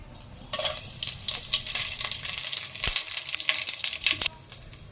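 Whole cinnamon, five cloves, shahi jeera and four cardamom pods sizzle in five spoons of hot oil for bagara rice. A steady crackling fry runs throughout, with spoon-stirring clinks and scrapes rising in bursts, and no talk.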